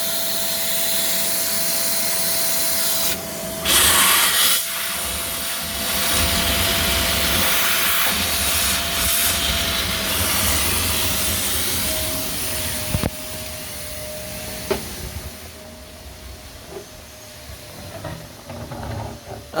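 A wet vacuum sucks water out of coal-fire back boiler and radiator pipes, giving a loud, steady roaring hiss that cuts out and restarts a few times, then gurgles and fades near the end.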